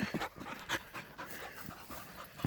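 A young five-month-old female hunting dog panting close by outdoors on a shed-antler hunt, quick rhythmic breaths with a few soft huffs and no talking.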